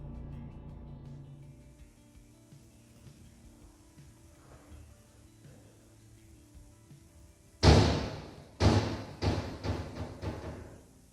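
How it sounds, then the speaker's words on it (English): A door swings shut on its own, heard after a long stretch of quiet low ambience as one sudden loud slam followed by a series of weaker knocks and thumps. "a door suddenly swings shut on its own"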